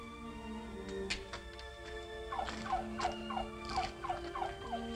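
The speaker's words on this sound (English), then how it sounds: "Gobbling like you haven't got a care in the world." A turkey gobbles in a rapid burst of repeated warbling calls, moderately close, set against a soft background tone and a few faint clicks.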